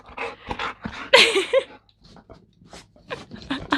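Two dogs, one big and one small, pant and whimper close by in a home, with short yips and whines in quick irregular bursts between quieter moments.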